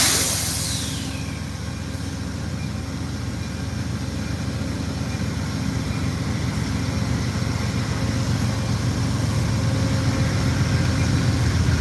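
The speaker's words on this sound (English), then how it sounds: "Locomotives" BNSF freight locomotives pass with a heavy, continuous low diesel rumble and broad mechanical noise that grows slightly louder over the run, steady and close without any talk.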